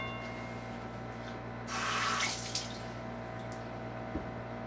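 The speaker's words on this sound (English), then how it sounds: "And then I go like this and I just rinse it off." Tap water runs briefly over food being rinsed of vinegar in a kitchen sink, a short splashing burst of about half a second standing out over a steady low background hum.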